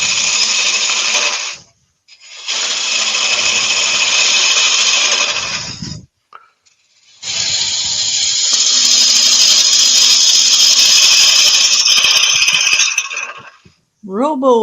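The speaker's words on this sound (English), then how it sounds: "I'll use my rough and gouge just to get this down into a cone." Roughing gouge turning wood into a cone on a lathe: loud, continuous rasping and hissing cuts in long passes separated by short pauses, with a brief high whine at the very end.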